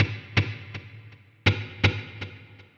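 Guitar through a delay effect with repeats set to 120 BPM: a plucked note followed by steadily spaced echoes that fade, then a second struck note repeating the same decaying pattern, alone with no talking.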